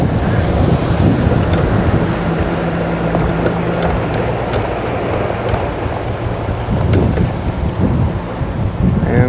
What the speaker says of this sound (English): the wind's picked up to, oh, that feels like 15 or 20 mile an hour gusts here